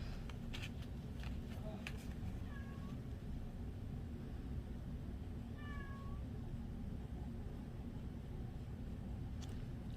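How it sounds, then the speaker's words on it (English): A cat meows a couple of times, faint and somewhat distant, over a steady low rumble of background noise. "I don't know if you guys can hear my cat in the background."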